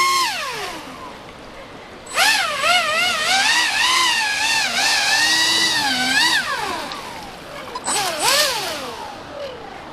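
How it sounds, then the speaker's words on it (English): A Proboat Aerotrooper RC airboat runs on water, its fan motor whining loudly and rising and falling in pitch as it throttles up and down, then easing off and surging again near the end. "that is the Proboat Aerotrooper airboat"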